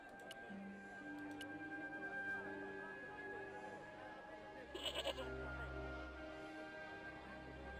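A goat bleats in long, wavering, sustained calls that sit faint and somewhat distant over a steady low background hum, with a brief louder burst of noise partway through.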